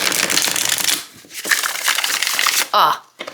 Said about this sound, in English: That is how a deck should shuffle.